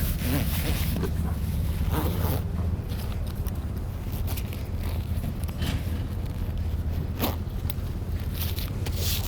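A YKK Vislon marine-grade zip being pulled open on a vehicle awning bag outdoors, a continuous close scraping rasp lasting several seconds with light rustling and handling noise, no talk.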